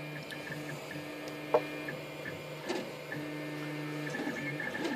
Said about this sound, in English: Printing our first object since I tightened up the bed and re-leveled it.